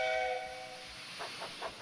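A train whistle sounds a loud harmonic toot at the start, then fades into rhythmic chuffing steam puffs of a moving engine.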